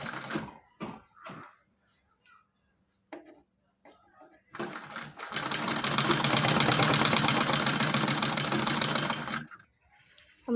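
Sewing machine stitching thin gota lace onto a small Kanha ji dress, a loud, close, continuous mechanical whir lasting about five seconds, preceded by brief handling sounds and bits of speech.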